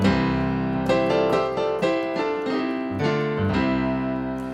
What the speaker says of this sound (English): So I'm really harmonizing a melody with these two triads up and down the keyboard.